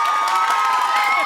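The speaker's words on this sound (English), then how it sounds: "a round of applause for Anthony's shirt" Crowd at the Digicel Rising Stars televised talent show cheers and whoops, a brief dense burst of loud shouting and applause.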